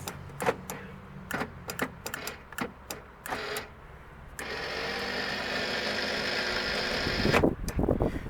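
A shop vehicle with about 188,000 miles has its starter cranking on a weak battery, an uneven series of short clicks and clunks followed by a slow, sustained grinding crank that never catches.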